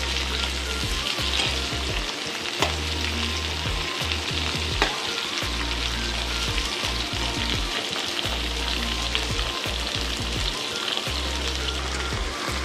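Vegetables frying in a pan for a Bengali vegetarian dish, a loud, continuous close sizzle with a bright crackling hiss and occasional stirring scrapes, with no talk over it.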